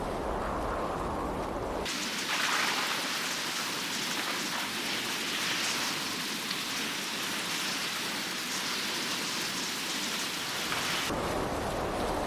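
A heavy storm in Assassin's Creed Valhalla roars with dense, continuous rain and deep rumbling thunder, loud and enveloping, with a softer ambient bed at the start and end.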